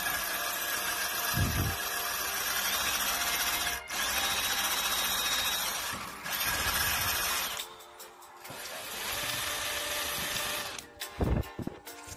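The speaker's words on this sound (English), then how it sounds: "But we'll just rub down this section and that bit now." Power sanding on a rusty car body section, a steady loud grinding whir running almost continuously, with brief pauses and short changes in pitch, and no voices.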